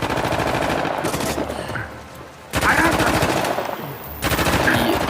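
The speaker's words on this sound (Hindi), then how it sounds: "ये आ गया तो फायरिंग कंटिन्यू है" Rapid automatic gunfire in the Uncharted video game, dense bursts of shots rattling loudly, pausing briefly around the middle and then resuming just as hard, with faint speech mixed in.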